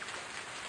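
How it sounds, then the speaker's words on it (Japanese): A steady hiss of rain from the Yume Nikki 3D video game rushes continuously and evenly, soft but dense, with no other sounds. "雨のエフェクトか。"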